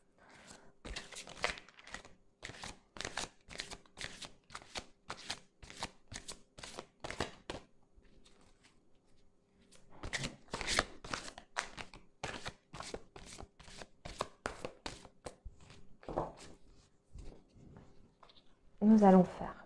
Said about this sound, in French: Nous allons faire une coupe pour commencer.